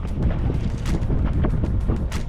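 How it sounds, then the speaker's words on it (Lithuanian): Wind gusts over open water on a fishing outing, buffeting the microphone with a steady rumbling rush and swelling bursts throughout. "O, vėjas sukilo"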